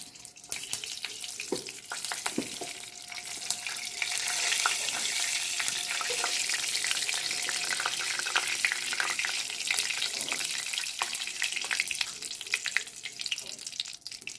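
Mustard oil sizzles in a pan while tangra fish and potato curry is cooked at home, making a continuous close crackling hiss with small pops and stirring noises throughout.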